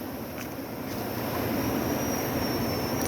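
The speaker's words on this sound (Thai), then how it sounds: "เสียงน้ำตกตาด" A waterfall roars at a camp on the Laos–Thailand border, a dense steady broadband rush that swells slightly and continues without a break, with no voices.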